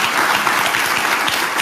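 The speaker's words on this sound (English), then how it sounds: "That is the people in the audience clapping" Audience applause at a political talk, a dense, even patter of many hands clapping together, loud and continuous through the brief moment.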